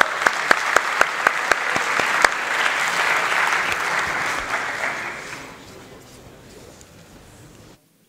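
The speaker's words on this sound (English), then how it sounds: "A round of applause to Tiago Caxias." An audience at a tech conference in Porto claps loudly, with several sharper individual claps on top at first, then the applause fades to a quieter patter and stops.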